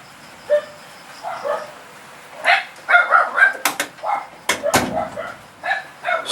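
Dogs bark and yip in short bursts, with some whimpering, while someone talks and shouts at them in between.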